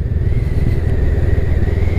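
Honda CMX 500 Rebel twin-cylinder motorcycle engine pulling steadily in fifth gear at about 50 km/h, a continuous close, loud throbbing drone with a rising whine as it gently accelerates.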